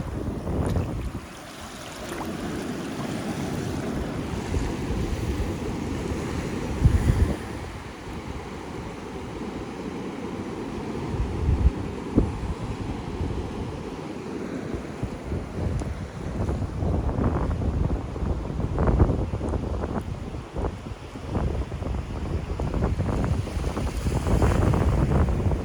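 Outdoor water scene with waves washing and wind buffeting the microphone, a continuous rushing roar with surging swells that grow busier and louder toward the end, no voices.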